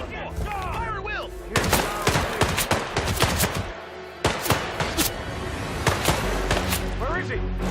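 Gunfire in Hitman 3 bursts in rapid volleys of sharp, loud shots with thuds between them, layered over game sound and voices.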